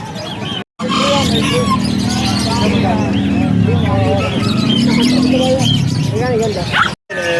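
Many birds, including baby birds, chirping and tweeting at once in a busy, crowded pet section of Bocaue Public Market, continuous bright chatter with people talking underneath.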